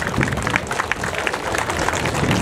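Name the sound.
audience applause for fighters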